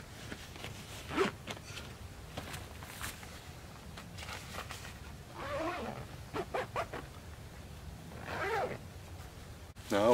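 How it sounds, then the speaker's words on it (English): A zipper on a ground blind tent door and windows runs in several separate pulls, close and fairly loud, with pauses and handling noise between. "We are going to zip our front door back up, as well as all the windows."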